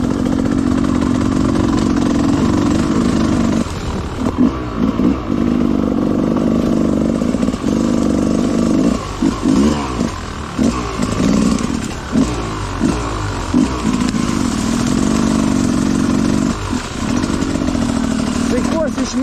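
A dirt bike engine drones at idle and low revs on an abandoned motocross track, a close buzzing note broken by repeated gaps and revving bursts, with people talking over it.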